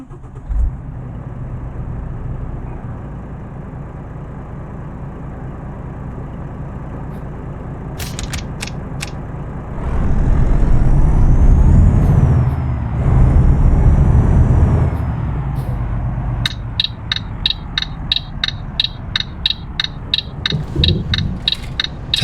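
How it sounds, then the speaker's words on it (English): A 600-horsepower Volvo FH16 Classic truck with a 12-speed gearbox idles, then its engine rises in a loud rev before settling. A fast run of regular mechanical clicks follows near the end, all in a driving game with no voices. "the truck I'll be using is a Volvo fh16 Classic. It has 600 horsepower. There's a 12-speed gearbox in it."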